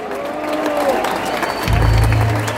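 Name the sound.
concert audience applause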